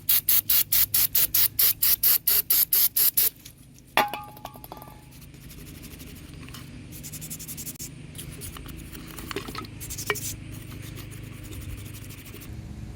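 Rapid rhythmic scrubbing strokes of a toothbrush on a 2013 Ford F150 throttle body, about a dozen quick close bristle rasps, then a metallic clink and quieter rubbing and handling noises.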